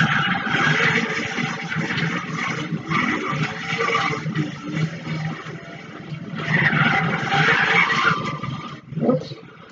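Identical stock race cars in a racing video game roar and skid around the track, with engines surging and tires squealing in repeated waves, loud and continuous.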